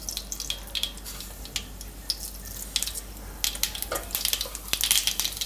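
Mustard seeds crackle and pop in a spoonful of hot oil in a kadai, a dense, bright spitting sizzle that grows busier and louder toward the end, with no voices.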